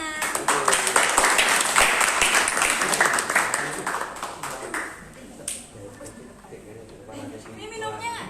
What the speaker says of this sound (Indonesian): Silakan kita sambut dengan tepuk tangan.